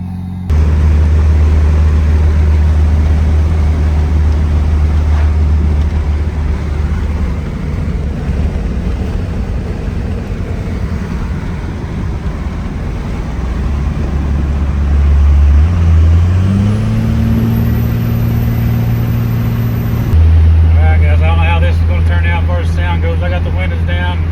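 A car cruises along a road on the way to Boonville, Kentucky, its steady engine hum and tyre roar filling the cabin, with engine pitch shifting as it changes speed partway through.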